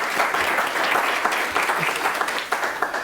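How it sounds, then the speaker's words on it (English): A live studio audience at a conference panel on digital transformation and the Metaverse applauds the guests: a steady, full round of clapping from many hands, holding level for several seconds with a few louder claps near the end. "who I think we should give a round of applause just for being with us here in the studio live"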